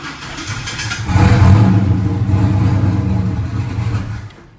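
Car engine with a two-step line lock setup cranks and briefly fires up, a rough mid-pitched running note rising loudly then fading as it dies from lack of fuel pressure.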